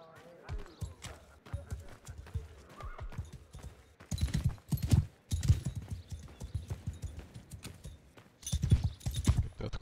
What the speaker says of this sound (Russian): Это откуда у тебя лошадь?